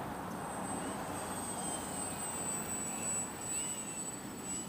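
A Twisted Hobbys 32-inch MXS-C radio-controlled model airplane flies at a distance in wind, its motor a faint, steady whine with a thin high tone over a broad rushing hiss that stays even throughout, with no talking.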